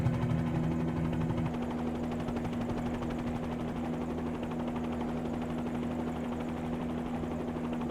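A Bell 47 helicopter engine in Microsoft Flight Simulator drones steadily, a close, even rotor-and-piston hum with a strong low tonal buzz that holds unchanged from start to finish, no voices over it.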